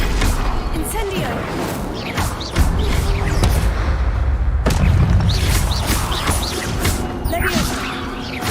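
Casting the fire spell Incendio in the video game Hogwarts Legacy sets off booming, crashing blasts and a rush of flame, loud and close across several seconds, with a voice talking over the effects.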